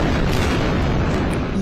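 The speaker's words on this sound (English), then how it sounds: "relentless explosions, and panic in the streets as Israel fights back" Loud, dense rumbling booms of explosions over Gaza City at night, a continuous heavy roar with no gaps.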